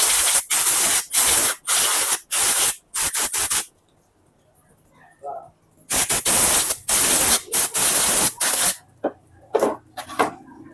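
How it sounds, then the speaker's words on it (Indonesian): Cleaner sprays in bursts onto parts of a Suzuki Spin 125 carburetor to dry them: several sharp, loud hissing blasts of varying length, a pause, then another run of bursts, close to the microphone. "Kita langsung semprot untuk mengeringkannya."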